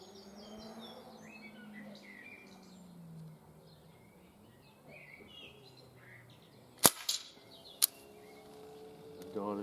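A Virtus air rifle fires at a target outdoors, giving two sharp, short cracks about a second apart over a quiet background of birdsong.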